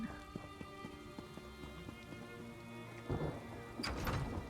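In The Elder Scrolls Online, steady rain patters outside under a soft low rumble of thunder, with a few footsteps and a faint tonal music bed, and a louder thunder swell near the end.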